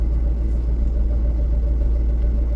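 A 1984 Ford F800 truck with a 429 engine gives a steady, loud, close low rumble that stays even throughout, with no voices.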